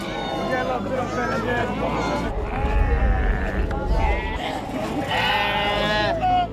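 Sheep and goats bleat at a weekly livestock market in Ouidou, overlapping calls rising above crowd murmur and a narrating voice.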